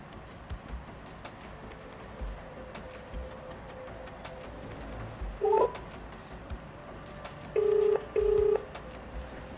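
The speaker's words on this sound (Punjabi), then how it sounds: "ਫੋਨ ਲਾ ਕੇ ਦੇਖਾਂ" Faint background hum, then a few short electronic tones beep in separate bursts, like keypad presses on a phone.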